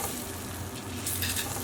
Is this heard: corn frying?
yes